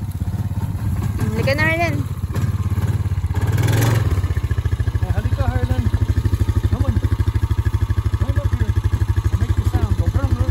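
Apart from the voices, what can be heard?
four-wheeler ATV engine while riding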